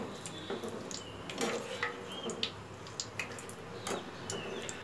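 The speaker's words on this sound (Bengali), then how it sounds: "কারি পাতাগুলো তিরিশ চল্লিশ সেকেন্ডের মধ্যে দেখবেন সুন্দর ভাজা হয়ে যাবে" Curry leaves fry in hot oil with a low steady sizzle, broken by light spoon-and-pan clinks and scattered sharp crackles, heard close with no voice.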